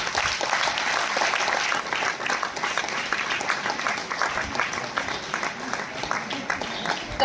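Audience applause at an honouring ceremony for performers in Nagpur, a steady room-filling clapping that lasts the whole stretch, dense and even with a slight dip partway through.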